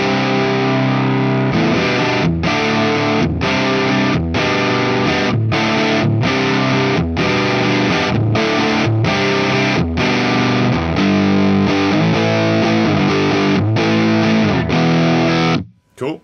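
Electric guitar played through an RC boost distortion on a Zoom G11 multi-effects unit, a thick, heavily overdriven riff of chopped chords with rhythmic stops, loud and continuous until it cuts off near the end.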